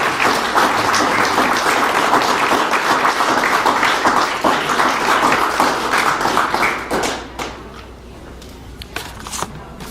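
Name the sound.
audience applause for the Governor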